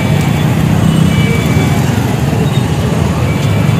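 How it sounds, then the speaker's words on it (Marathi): Busy traffic in the crowded Kudal market, with a steady rumble of cars, buses and motorbikes close by and a constant low engine drone filling the street. "कुडाचा ट्रॅफिक आहे बघा"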